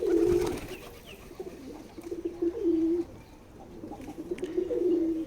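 A male wild pigeon coos in repeated low, rolling phrases, close by, with pauses between calls and faint background bird chirps.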